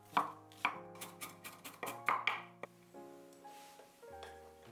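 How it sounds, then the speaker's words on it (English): Two shallots finely chopped with a knife on a board, a quick series of crisp, close knocks in uneven rhythm over soft background music. "To make the seasoning sauce, finely chop 2 shallots,"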